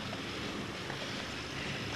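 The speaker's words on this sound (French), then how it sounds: "il y a un peu de vent" Steady wind rushing and buffeting a microphone outdoors at a parachute landing area, a continuous broadband roar at low level with no voices.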